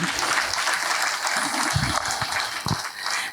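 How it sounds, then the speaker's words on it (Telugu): A crowd at a youth festival claps loudly and continuously, a thick, steady roar of applause that fills the whole stretch, with a few lower thumps and voices faintly underneath. "ఒక్కసారి గట్టిగా చప్పట్లు కొడదాం"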